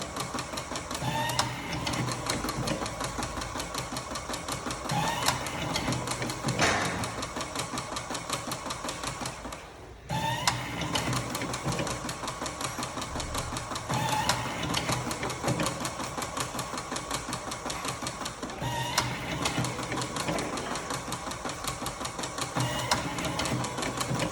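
A cigarette rolling machine runs continuously, a loud mechanical whirring and rapid clicking with a steady rhythm, briefly pausing near the middle before resuming, close up with no talk.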